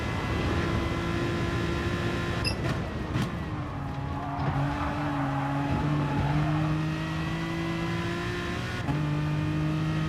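A race car engine in a racing video game on the Nürburgring Nordschleife holds a steady high drone at full power down a straight, its pitch sliding through gear changes, with no talk over it.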